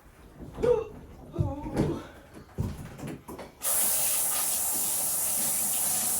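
A handheld shower sprayer switches on partway through and runs as a steady loud hiss while a 70 lb standard poodle is bathed, after several seconds of a person talking.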